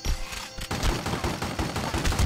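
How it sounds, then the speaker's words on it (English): Tommy gun fire in The Godfather video game, a sustained rattle of rapid automatic shots after a brief lull, moderately loud and steady, with no talking over it. "Since when the cops use Tommy guns?"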